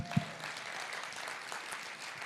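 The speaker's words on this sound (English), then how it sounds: "You can clap." Red carpet event audience applauding, a steady spread of clapping at moderate level with a brief sharp thump near the start, continuing throughout.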